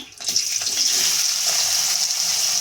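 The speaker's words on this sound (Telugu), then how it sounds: "ఆయిల్ కాగింది ఉల్లిపాయలు వేసేస్తున్నాను" Sliced onions sizzle loudly in hot oil in a kadai, a steady close frying hiss that starts sharply and holds throughout.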